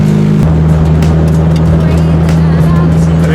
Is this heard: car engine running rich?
yes